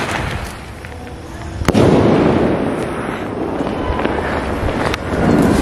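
A Mili Mili sky shot firework outdoors: a sharp launch crack followed by booming bursts, with crackling and wind rumble between two loud reports a few seconds apart.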